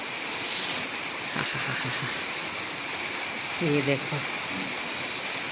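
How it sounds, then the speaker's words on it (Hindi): Steady rain falls outside, heard as a continuous hiss with scattered drips on surfaces, while someone speaks briefly in the foreground. "बाहर हो रही है अब होने लगी है बारिश"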